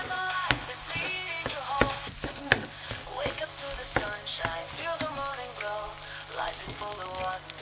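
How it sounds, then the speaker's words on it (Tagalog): Egg and rice being stirred together in a hot frying pan for special fried rice, with a steady sizzle broken by repeated scraping and clinking of the spatula against the pan, with no talking. "So haluin lang natin yung itlog at saka kanin."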